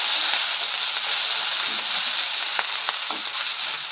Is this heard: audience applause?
no